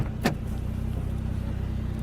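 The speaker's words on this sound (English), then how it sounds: "I'll pop the hood and then I'll grab the camera." The hood release of a 2003 Saab 9-3 SE convertible is pulled, giving a single sharp click near the start over a steady low hum from the car.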